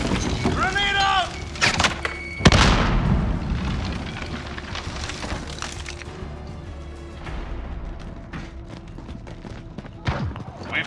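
A grenade goes off in Call of Duty Modern Warfare team deathmatch multiplayer on Xbox One: one loud, deep blast that rolls away into a lingering rumble, with scattered shots and voices before and after.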